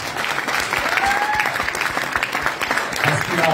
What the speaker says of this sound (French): je voulais que vous l'applaudissiez vraiment